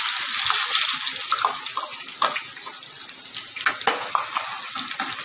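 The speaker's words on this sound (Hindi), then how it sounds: "देखिए हमारा तेल गर्म हो गया है गैस को थोड़ा कम कर दीजिए और इसमें प्याज ऐड कर" Onions frying in hot oil for misal, a steady broadband sizzle with occasional crackles and stirring clicks, close and moderately loud with no voices.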